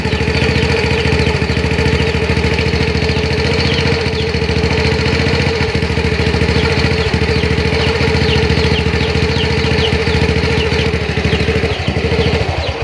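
A Honda Astrea Grand motorcycle engine, bored up to 130cc for semi-racing, idles steadily and loudly up close, with a rapid, even putter and a faint metallic ticking running throughout.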